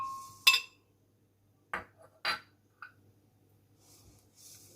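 Raisins and honey go into the glass jar of an electric blender, giving a few sharp glassy clinks and light rattles nearby, separated by quiet gaps.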